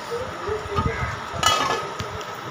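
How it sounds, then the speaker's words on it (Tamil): Onion paste stirred in a cooking pan for a fish curry: a few scraping and knocking strokes of a spoon against the pan over a faint sizzle, close and brief. "நல்லா கிளறி விட்டுக்கலாம்"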